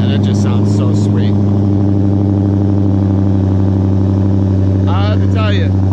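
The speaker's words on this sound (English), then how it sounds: "Now let's listen to the Hellcat. This is now with the intake with the stock exhaust." A 2017 Dodge Challenger Hellcat with an aftermarket intake and stock exhaust idles with a deep, steady, loud burble, close and constant throughout, while someone talks over the first second and again near the end.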